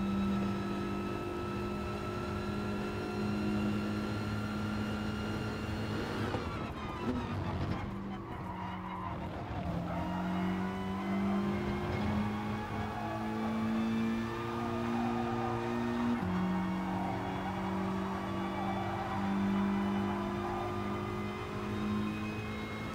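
A Mercedes AMG race car in GT Sport drones steadily with a sustained engine tone, a brief scrape of tire noise near the middle, then the pitch climbs and shifts through gears under continuous driving.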